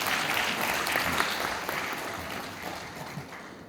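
An audience at an academic society's autumn conference opening ceremony applauds for the society president after an award presentation, a dense even wash of clapping that slowly fades toward the end.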